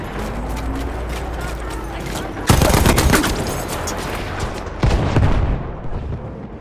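Machine gun fire in a video game, an MG15 n.A. on the Amiens map: two loud, close bursts of rapid shots over a steady background din of battle, with the second burst shorter and a faint voice in the mix.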